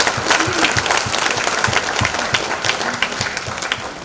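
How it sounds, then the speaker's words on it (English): Guests at a university alumni and friends gala applaud, a full, sustained roar of many clapping hands filling the room, dense and even throughout. "Round of applause."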